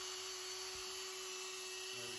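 A Dremel 4000 rotary tool running at 5,000 RPM gives a steady, quiet, high-pitched whine that holds evenly for the whole stretch, with no voices.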